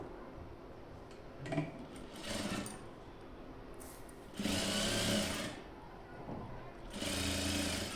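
A sewing machine stitching a blouse lining in short bursts, its motor whirring loudly for a second or so at a time between brief pauses, close by in a quiet room.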